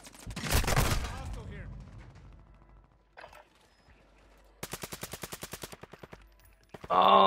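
Rapid SMG fire in a battle royale-style video game: a fast, evenly spaced burst of loud shots, preceded by a louder burst early on and followed by a brief loud sound at the end, with little talk between.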